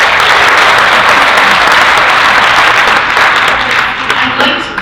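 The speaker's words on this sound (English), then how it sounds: "A round of applause for that." An audience at the launch of Rhode Island's Alzheimer's state plan gives a loud, sustained round of applause. Dense clapping holds at full strength for several seconds before thinning slightly toward the end.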